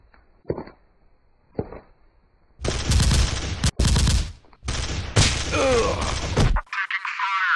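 Gunfire in a video game shootout: two faint thumps first, then loud sustained bursts of rapid shots in several long volleys separated by short gaps, close and dense.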